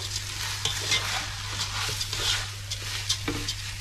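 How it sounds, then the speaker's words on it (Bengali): Vegetables frying in a pan crackle and sizzle continuously, with a spoon stirring and scraping in quick irregular strokes, close up with a low steady hum beneath and no voices. "এখন এটাকে ভালো করে আমি 5-7 মিনিট ভেজে নিব"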